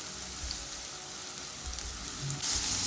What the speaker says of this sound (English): So add in your onion. And I'm going to let it brown.